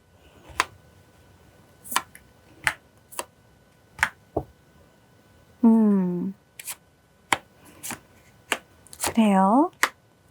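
Tarot cards are shuffled and spread on a table, making sharp, separate snaps and flicks at irregular intervals, close and clear, with two short spoken murmurs in between.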